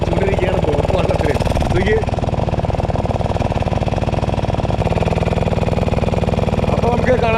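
A boat engine pushes a fishing boat slowly down the middle of the Periyar river early in the morning, a loud steady chugging drone with rapid regular pulses that runs without a break.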